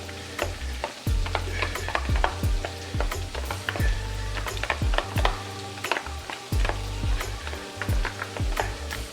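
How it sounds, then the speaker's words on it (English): Senegalese jollof rice ingredients stirred and fried in a pan, with sharp spoon clinks against the pan in an irregular rhythm over a steady sizzle and low hum, with no voices. "So basically, I just go ahead and mix it all up in there."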